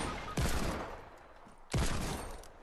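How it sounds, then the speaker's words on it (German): Cannon fire in a Fortnite Battle Royale match: two loud booming blasts about a second and a half apart, each with a sharp onset and a long rumbling decay, with no talk over them. "da ist die Kanone geschossen"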